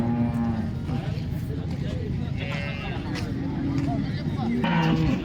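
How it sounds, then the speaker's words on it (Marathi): Cows low at a busy cattle market in Modnimb, several drawn-out moos rising over constant crowd chatter, people talking nearby and a vehicle rumbling in the background. "आता ही गाय आहे एका शेतकऱ्याची"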